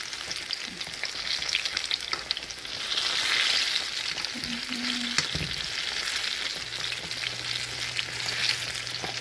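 Snapper fish fries in hot oil with a continuous, bright sizzle that swells slightly midway, plus a few faint kitchen knocks and clinks, and no voices.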